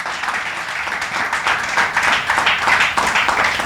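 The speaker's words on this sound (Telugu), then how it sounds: "చప్పట్లు కొడదాం ఒకసారి గట్టిగా" A church congregation claps loudly together during a sermon, a dense, sustained wash of applause filling the whole moment.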